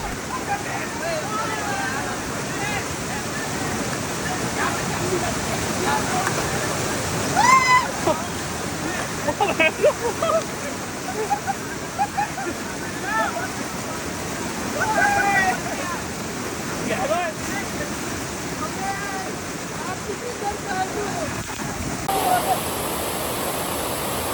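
Loud, constant rush of the Naldeshwar waterfall near Alwar fills the scene, with voices talking and shouting faintly beneath the roar.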